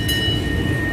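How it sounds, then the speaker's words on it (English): A ride train at a fall fair rumbles steadily, with a thin sustained tonal whine above the continuous loud mechanical noise and no break. "Yes, I see the train."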